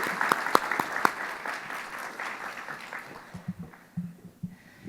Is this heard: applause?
yes